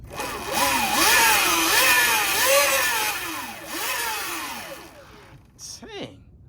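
A Surron electric dirt bike, lifted off the ground, spins its rear wheel on light throttle: a loud whining motor rises and falls in repeated swoops, then winds down quickly near the end, followed by a short sound from someone close by.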